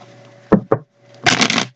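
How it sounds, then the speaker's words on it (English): Tarot cards are shuffled up close: two quick sharp slaps, then a brief fluttering riffle, loud and crisp with silence between. "I got a couple more shuffles here"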